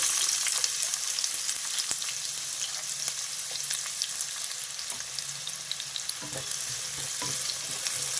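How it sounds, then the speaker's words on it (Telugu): Chopped onions frying in hot oil for a garlic chicken curry, making a loud, steady close sizzle with faint stirring clicks throughout and no voices. "నూనె వేడైపోయింది ముందుగా కట్ చేసి పెట్టుకున్నాం కదా ఉల్లిపాయలు అదే వేసేద్దాం"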